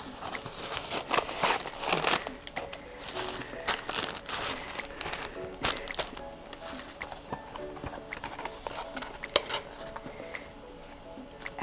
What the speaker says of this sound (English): So let's rip open our box.